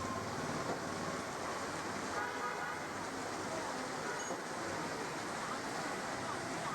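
Heavy rain with wind pours steadily in Tiruvallur, Tamil Nadu, making a dense, continuous roar that stays loud and unbroken throughout.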